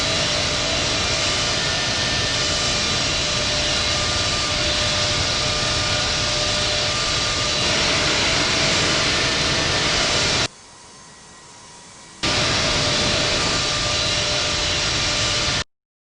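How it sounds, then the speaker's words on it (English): A Boeing 757 heavy jet in the Infinite Flight simulator takes off from runway 27 left at London Heathrow, its engines giving a loud, steady roar that cuts out briefly partway through, then resumes before stopping abruptly. "Mike Oscar November 757 Heavy is taking off runway 27 left, departing straight out."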